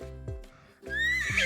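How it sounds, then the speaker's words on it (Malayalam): A horse whinnies twice, loud and close, with shrill rising calls separated by a brief pause and a second longer neigh at the end. "കുതിര."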